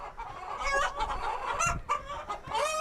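Chickens cluck and squawk in a crowded coop on a hot day, a dense, continuous flock racket with overlapping calls and a crow-like cry rising near the end.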